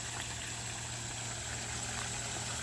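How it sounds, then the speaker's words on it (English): A backyard garden pond gives a steady, quiet wash of flowing water with a faint pump-like hum beneath it, continuous and unbroken. "super sweet spot to sit back here and listen to the water"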